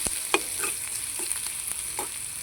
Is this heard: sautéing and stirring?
yes